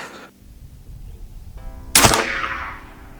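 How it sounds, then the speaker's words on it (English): Hatsan Factor regulated carbon .357 bullpup airgun firing a pellet: a single sharp, loud report close by, then a short decaying ring, after quieter handling noise. "direct out of the box, first shot with pellets"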